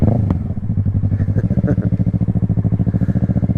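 A Yamaha R3 motorcycle engine pulses in a fast, even beat under throttle, loud and close, with its rhythm holding steady over a rumbling low drone.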